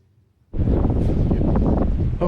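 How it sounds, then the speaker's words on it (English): Sudden burst of strong wind buffeting the microphone after a brief quiet moment, a loud, continuous roaring gust outdoors. "I'm going to try to talk over the wind. It's really windy out here."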